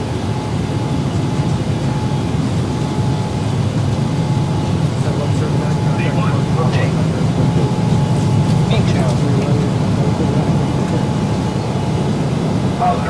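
An airliner on its takeoff run in Microsoft Flight Simulator, a steady, loud low engine roar that holds throughout, with faint radio-style voices and cockpit chatter over it.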